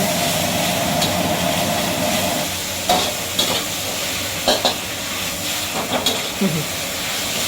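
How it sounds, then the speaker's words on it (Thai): Pork stir-fried with soy sauce in a wok for Thai pad see ew, a steady loud sizzle with scraping stirs and clanks of the spatula against the pan throughout. "คั่วจนหมูสุกแล้วเนาะ"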